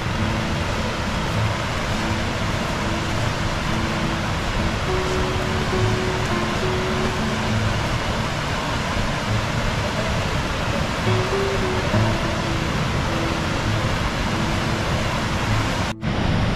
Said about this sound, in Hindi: कितना शानदार वाटरफॉल है ये, यह है भिंडीवाड़ी वाटरफॉल